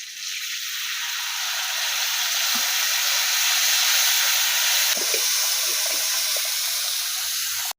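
Water poured into a hot pan of oil and tempered nigella seeds and chili for a thin hilsa curry hisses loudly and steadily, with steam and a few low bubbling pops near the end.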